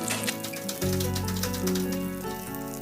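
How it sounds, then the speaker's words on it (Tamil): Whole brinjals frying in oil for a Tamil brinjal gravy, close crackling sizzle and fine spattering that stays steady, layered over a low continuous hum. "எல்லா கத்திரிக்காயும் எடுத்து இந்த மாதிரி எண்ணெயில் படுற மாதிரி வச்சுக்கணும்"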